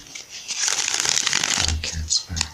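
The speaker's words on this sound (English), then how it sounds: "I usually shuffle it three times," An oracle card deck is shuffled by hand in a riffling burst, followed by a few shorter shuffles and taps, with a voice speaking over parts of it.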